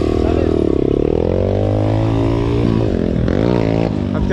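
A Yamaha dirt bike engine revs hard and close during a wheelie, its pitch climbing and dipping through several throttle surges with a rough, buzzing two-stroke character, while people talk over it.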